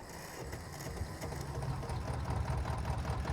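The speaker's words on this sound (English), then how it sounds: "I'll go through and show you what they sound like to start up and drive" A Deutz 06 series tractor in Farming Simulator 22 starts up and settles into a steady diesel chug, a rhythmic mid-low engine throb that grows slightly louder, with no talking.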